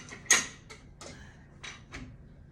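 The front bar of a long arm quilting frame is pulled, producing a few close, short creaks and knocks spaced irregularly over a couple of seconds.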